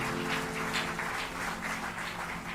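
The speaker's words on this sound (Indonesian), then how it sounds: "Boleh berikan tepuk tangan buat Tuhan." A church congregation applauds during a Sunday worship service, a steady mass of clapping from many hands that carries on without a break and sounds somewhat distant and soft.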